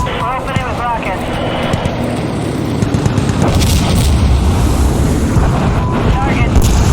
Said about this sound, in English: We're opening with rockets.